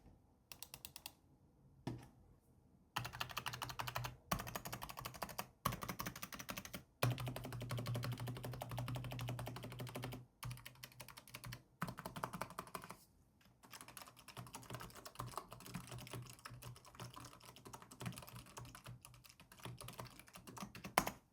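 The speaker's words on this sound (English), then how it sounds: "there is a slight plastic clicky sound to each key press, which you'll likely hear in this typing test" Quiet typing on a Keychron B36 keyboard, a steady stream of light plastic clicks from individual key presses, with a few brief pauses between bursts.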